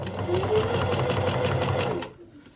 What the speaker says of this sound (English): So I just hand crank the first stitch, make sure it knows where it's going